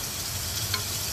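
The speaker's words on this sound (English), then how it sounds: "let's go ahead and drop the bacon in there" Bacon sizzling in a soup pot for zuppa toscana, a brief, close, steady hiss of frying fat with a small pop.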